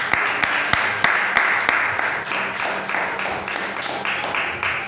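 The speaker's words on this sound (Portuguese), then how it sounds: "E as palmas são para Jesus." A church congregation applauds during a service in a steady wash of many hands, with a few louder individual claps early on and no talk.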